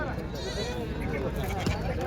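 Goats bleat briefly amid a busy village goat market, a few short calls near the listener over constant crowd chatter and talk.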